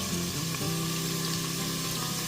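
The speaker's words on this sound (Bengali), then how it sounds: "ফ্লেমটা মিডিয়ামে রেখে এঁচোড়গুলোকে 5 থেকে 6 মিনিট ধরে খুব ভালো মতো ভেজে নেব" Jackfruit pieces fry under a lid over a medium flame: a dense, continuous sizzle and bubbling hiss, steady and fairly loud throughout, with no pauses.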